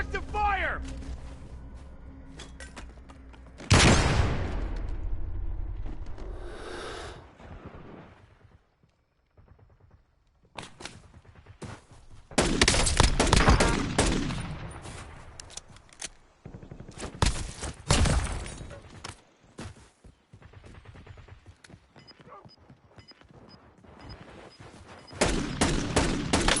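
Heavy video-game gunfire in loud, crashing volleys, with big bursts early, in the middle and at the end, separated by quieter stretches of scattered shots and lulls, with people talking in between.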